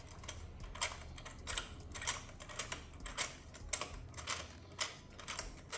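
A spark plug is unscrewed from a 2024-2026 Buick Encore GX 1.3L engine with a 9/16 inch thin wall socket and ratchet, giving a steady run of soft rhythmic ratcheting clicks, close and quiet.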